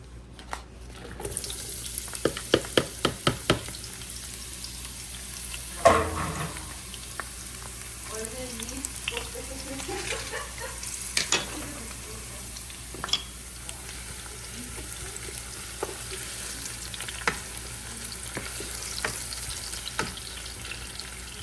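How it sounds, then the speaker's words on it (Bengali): Onion and green chili hitting hot oil in a pan for a mixed vegetable dish, giving a steady fizzing sizzle with a cluster of sharp utensil clicks near the start and a brief clatter partway through. "পাত্রে তেল দিয়ে নিয়েছি তেলটা গরম হওয়ার পরে"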